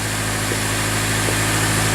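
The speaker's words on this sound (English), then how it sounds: "it's still idling really high" A car engine idles steadily at a raised, constant pitch, with a low even hum and no other sounds.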